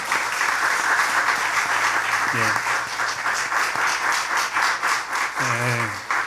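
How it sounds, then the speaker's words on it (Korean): A church congregation applauds during a Korean Sunday worship service, giving thanks to the pastor. Dense, steady clapping fills the whole stretch, with a voice briefly rising over it twice. "오늘 귀한 말씀 전해주신 목사님께 감사하는 박수를 한번 드리도록 하겠습니다."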